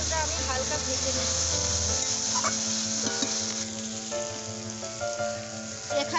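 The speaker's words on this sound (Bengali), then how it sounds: "পেঁয়াজ আর টমেটোটা আমি হালকা ভেজে নেব।" Onion and tomato frying lightly in a pan give a steady, close sizzle, hissing and crackling evenly throughout with a light stir partway, a voice faintly present.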